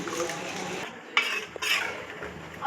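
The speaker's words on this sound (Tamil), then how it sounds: "நல்லா இந்தளவுக்கு கலக்கி விட்டுக்கலாம்" A spoon stirs chicken gravy in a pot, giving a few soft metallic clinks and scrapes against the rim over a quiet background.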